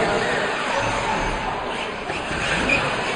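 Radio-controlled model cars racing on an indoor track, a steady, dense whine of small motors with occasional tyre scrubs, continuous and fairly loud throughout.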